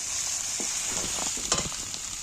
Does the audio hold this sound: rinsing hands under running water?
no